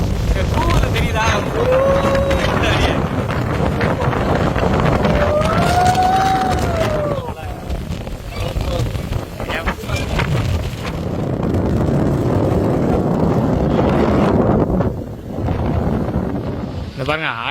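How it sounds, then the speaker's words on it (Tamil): Strong wind roars and gusts steadily across the microphone at the Adavi Nainar Kovil reservoir, with a low rumble throughout and a brief whine rising and falling early on. "என்ன சார் காத்து சவுண்டு கூவுறா ஒரு மாதிரி."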